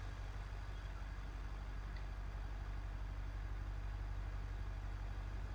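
Car engine idling in BeamNG.Drive gives a steady, deep, bassy rumble with a low muffler drone, quiet and unchanging throughout with no voices.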